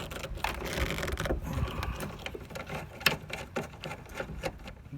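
Ratchet clicking and mechanical rattling while 11 mm bolts are removed under the hood of a Ford Mustang GT, a rapid close-up patter of clicks with scraping handling noises.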